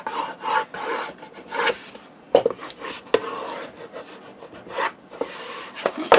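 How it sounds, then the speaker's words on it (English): A bone folder burnishes creases out of Graphic 45 Alice in Wonderland patterned paper, giving repeated close dry rubbing and rasping strokes in uneven bursts with a few sharper scrapes. "you will be able to burnish all them creases out"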